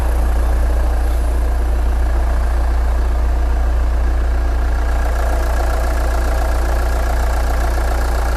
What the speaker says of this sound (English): that engine was getting a little bit rough, but not right now